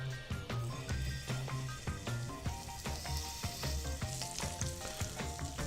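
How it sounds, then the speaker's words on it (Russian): Veal sizzles and crackles in hot olive oil, with dense popping and spattering throughout and occasional clinks of a utensil in the pan. "И уже в горячее масло выкладываем нашу телятину."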